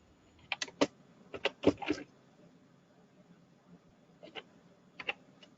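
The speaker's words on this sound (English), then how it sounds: "there's someone typing" Someone typing on a computer keyboard during an online group meeting, with irregular clusters of sharp keystroke clicks close to the microphone, separated by brief pauses.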